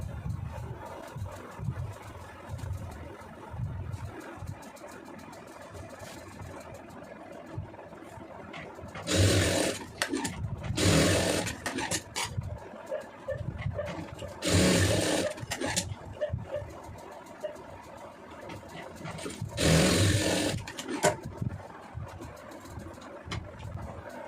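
A sewing machine stitches blouse pieces together in three loud bursts of rapid whirring needle action, separated by quieter stretches of handling fabric, close up and with no speech.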